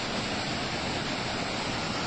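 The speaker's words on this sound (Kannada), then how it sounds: "2 ದಿನಗಳಿಂದ ಧಾರಾಕಾರವಾಗಿ ಮಳೆ ಸುರಿದ ಪರಿಣಾಮವಾಗಿ ಈ ರೀತಿ ನೀರು ಹರಿತಾ ಇರೋದು." Rainwater pours like a waterfall at Kellodu bridge in Hosadurga taluk, Chitradurga district, after two days of heavy rain. The sound is a continuous, even roar of rushing water with no breaks.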